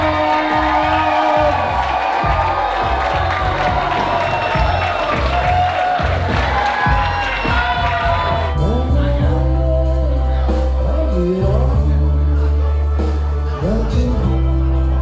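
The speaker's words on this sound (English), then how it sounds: "At long last, please make as much noise as you can for your newlyweds, Mr. and Mrs. Adam and Brittany Shields!" Wedding guests cheer and shout for the newlyweds, a loud crowd roar under booming music that continues after the cheering fades.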